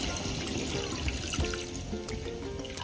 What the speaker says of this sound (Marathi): आता हे गरम पाणी केलेलं होतं, गरम पाणी आता याच्यामध्ये आपण